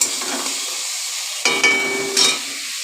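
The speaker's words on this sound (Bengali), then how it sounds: "এইবার ভালো করে কষিয়ে নেব মশলাটাকে" Spice paste for a pomfret curry, sweetened with a little sugar, sizzles steadily in a pan, with a few louder bursts of frying and stirring scrapes partway through; no one speaks.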